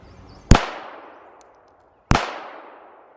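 Two sharp, loud gunshots from a Baby Rock .380 ACP 1911 pistol, about one and a half seconds apart, each a close crack followed by a ringing decay, with no talking.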